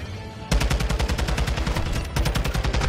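Rapid automatic gunfire from a TAQ 56 or Lachmann Sub loadout in Modern Warfare 2, loud close bursts of sharp shots in a fast rhythm, a brief pause, then another burst, with no talking.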